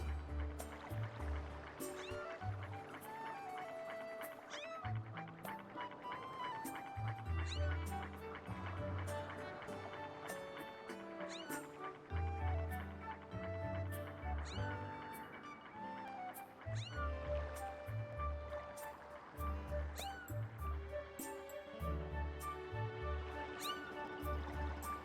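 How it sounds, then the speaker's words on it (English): A cat meows intermittently in The Legend of Zelda: Skyward Sword HD, faint beneath continuous game music and ambient sound. "Y'all can listen to this cat complain."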